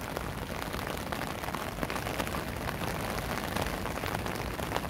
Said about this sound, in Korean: 지금 현재 비가 굉장히 많이 내고 있습니다